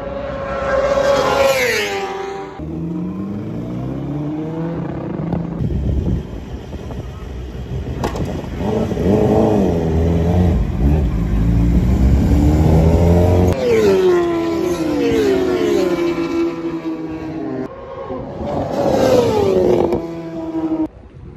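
Race motorcycles rev and pass on a track during a BSB Ducati Cup test, loud engines rising and falling in pitch, several bikes heard near and further off over about twenty seconds.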